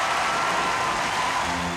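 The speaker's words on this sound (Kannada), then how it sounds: "ಚಪ್ಪಾಳೆ." A crowd claps in a Motu Patlu cartoon after an aerial stunt show, a short, even burst of applause with no voices over it.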